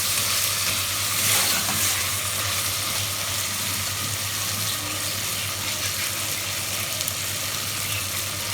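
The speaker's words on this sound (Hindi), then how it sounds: "थोड़ा सा इसमें यखनी वाले पानी हम डालेंगे" Yakhni broth water is poured into mutton cooking in a pot with bitter gourd, setting off a steady, loud sizzle and hiss that lasts the whole stretch with a faint splashy start, and no talking.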